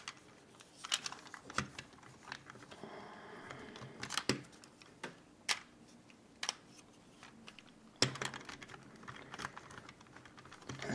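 Plastic parts of a 2012 Masterpiece Optimus Prime toy figure clicking, sliding and snapping as it is transformed, a close series of sharp irregular clacks with brief pauses.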